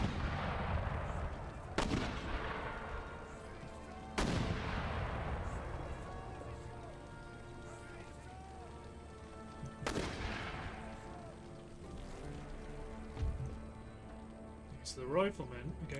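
Mortars and artillery in an Empire: Total War battle fire as a few sharp, booming reports with long ringing tails, spaced several seconds apart over a continuous battlefield din, with some voices present.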